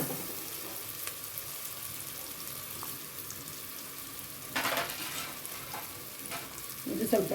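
Tomato and moong dal frying in a pan, a soft steady sizzle with a few louder stirring scrapes and clatters, fairly quiet overall.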